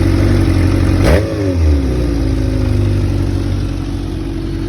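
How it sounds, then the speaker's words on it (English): A cold 1999 Kawasaki ZRX1100R motorcycle with a 1200R engine swap idles steadily and loudly up close, with one brief rev near the start before it settles into an even rumble. "Starts up right away, still cold engine, sounds really nice."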